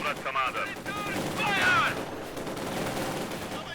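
Light machine gun fire in Company of Heroes 2, rattling bursts with scattered battle noise and mixed in-game voice lines throughout, fairly loud and dense.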